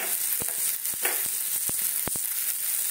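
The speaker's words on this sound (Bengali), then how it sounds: "এবারে দেখো এর সঙ্গে আদাটা দিয়ে দিচ্ছি" Ginger sizzles in a hot pan, a bright, steady frying hiss held close throughout, broken by several short sharp pops and crackles.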